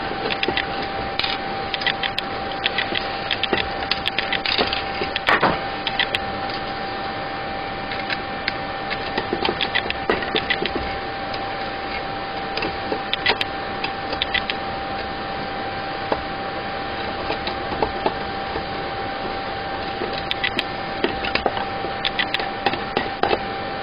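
Metal tabs are pried off a metal thermostat cover with a lip, part of a homemade window fan thermostat, giving scattered small clicks and metallic taps over a steady background hiss.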